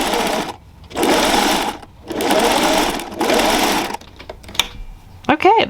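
A sewing machine runs a zigzag stitch across a fabric pot holder with salvaged batting, in three steady bursts of whirring with short pauses between, followed by a few light clicks and handling sounds.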